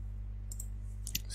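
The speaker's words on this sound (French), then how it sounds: "et vous allez cliquer sur suivant" Single computer mouse click on a Next button during an OVH domain setup, heard as a brief close click or two against a steady low electrical hum.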